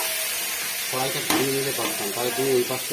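Eggs for an egg curry sizzle in a wok as they fry, a close, steady hiss under a voice talking over the cooking.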